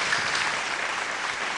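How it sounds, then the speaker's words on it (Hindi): An audience claps, a dense, steady wash of applause from many hands with no clear individual claps, moderately loud and unbroken for the whole short stretch. "इसमें ताली होना चाहिए"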